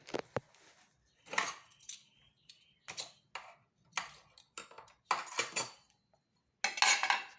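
Spoon and metal cutlery clinking against dishes while Thai taro and sweet egg coconut dessert is tasted, a scattered series of close, bright taps and scrapes broken by short silences.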